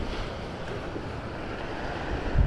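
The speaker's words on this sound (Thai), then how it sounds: "ลมตึงจนหนาวแล้วเนี่ยตอนเนี้ย เย็นมาก" Strong, cold sea wind roars across a beachside cafe at Hua Tan beach, with constant blustery buffeting and surf noise close to the microphone and a heavier gust at the end.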